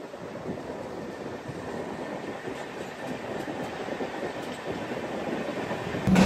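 A passenger train rumbles steadily along the rails, heard from its rear, with a continuous low roar and faint rhythmic rattling, close by and fairly loud throughout.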